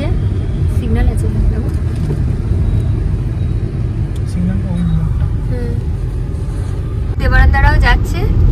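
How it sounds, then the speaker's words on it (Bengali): A car drives along an open road near Jadavpur, its engine and tyres making a loud, steady low rumble from inside the cabin, with faint voices and a brief louder swell of traffic noise near the end. "স্টার্ট দিয়ে দিয়েছি গাড়ি, আছি এখন যাদবপুরের কাছে"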